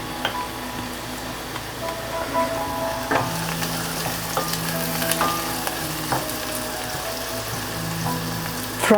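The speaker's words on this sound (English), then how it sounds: "Fry it for 2 to 3 minutes." Crushed garlic frying in a pan, a steady close sizzle with faint stirring scrapes throughout, no talking.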